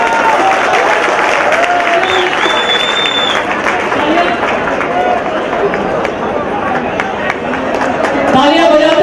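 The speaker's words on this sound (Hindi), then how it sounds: "तालियां बजाते रहिए" Audience applause at a Saraswati Puja function, a steady dense clapping from a crowd filling the whole stretch, with people chattering and calling out over it.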